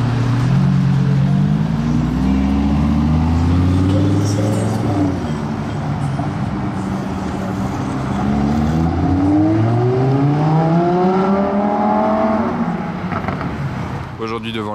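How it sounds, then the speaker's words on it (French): A Lamborghini V10 in an open-top convertible revs through several rising and falling pulls, loud and close, with wind rushing over the car throughout. "Écoutez le V10 cheveux au vent"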